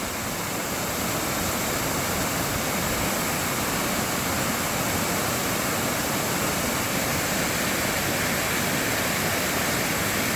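A dense, steady roar of a waterfall pouring into a lake reservoir, broadband rushing water continuous and close, with no voices.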